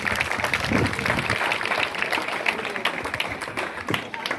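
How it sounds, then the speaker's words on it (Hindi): Dense, steady applause from a village crowd at a welcome celebration, with voices mixed into the noise throughout. "एक बार जोरदार तालियां बजा दीजिए आप सभी के लिए।"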